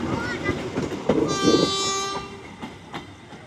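Local train bound for Garut and Cibatuan departing Kiaracondong station in Bandung, with a sustained horn chord over rumbling wheels and rail clatter at moderate distance, fading as it pulls away.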